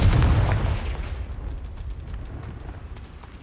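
A Confringo fire-blast spell in Hogwarts Legacy goes off as one heavy, booming explosion that hits hard at the start, then fades into a long rumbling tail with faint crackles.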